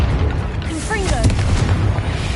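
A booming blast from the Confringo spell in a Harry Potter video game, a dense low rumble filling the whole short stretch with a brief whooshing flourish in the middle, under game noise and some talk.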